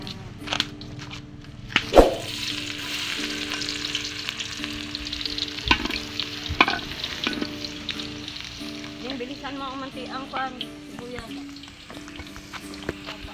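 Garlic and onion fry in a hot wok, a steady close sizzle with scraping stirs and a few sharp clacks of the utensil against the pan, continuing without talk.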